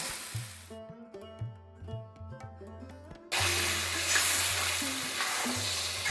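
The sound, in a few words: hot water added to sizzling banana flower, rice and spices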